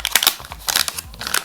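The plastic package of a HackRF One board is handled and opened, giving a quick run of close crinkling, crackling rustles in uneven bursts.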